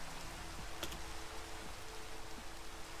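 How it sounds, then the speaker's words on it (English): Heavy rain pours down steadily during a thunderstorm in tornado-chasing weather, a dense, even hiss of falling water with a few faint ticks, fairly quiet and continuous, with no voices. "The rain's really coming down now."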